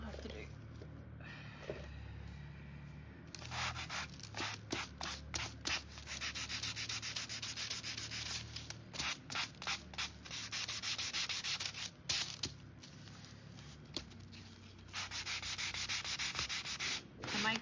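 A small sander grinds across an Amazon cardboard mailer being made into a jack-o'-lantern, giving a close, rough, abrasive rasp in repeated bursts and longer strokes over a low steady hum.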